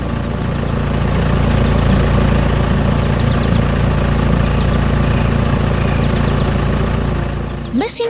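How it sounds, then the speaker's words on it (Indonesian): A green construction machine's engine works hard in an animated cartoon, a steady loud droning rumble that runs unbroken, with a brief rising sound effect at the end. "Mesin konstruksi hijau sedang bekerja keras di tanah berwarna coklat."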